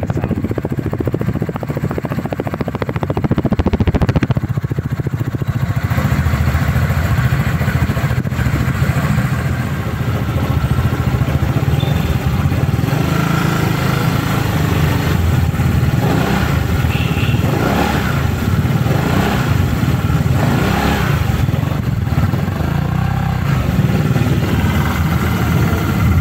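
A EuroMotor Falcon 180i motorcycle engine idles close by with a steady low rumble, then revs up in several rising surges before settling back, with no one speaking over it.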